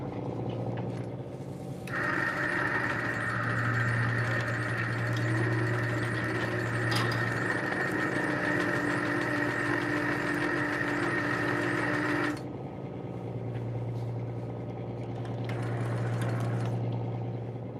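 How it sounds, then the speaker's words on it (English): Boat engine idling on an Alaskan fishing trip while jigging for rockfish, a steady low droning hum with a higher mechanical whine that swells for several seconds then eases back, no talk. "Straw Carpenter said that engine was gonna put him to sleep"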